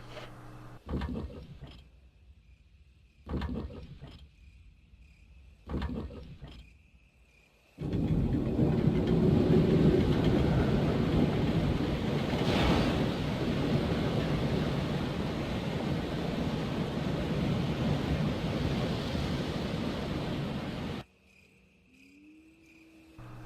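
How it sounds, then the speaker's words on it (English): In the Resident Evil remake video game, a steady roar of a distant waterfall fills the middle stretch, framed by quieter moments with brief thuds and faint tones. "You can hear the sound of a waterfall in the distance."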